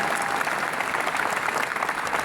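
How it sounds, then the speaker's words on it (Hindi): An audience at a company fourth-anniversary event and product launch applauds, giving dense, steady clapping from a large crowd that holds at an even level. "और तालियां बजाओ यार,"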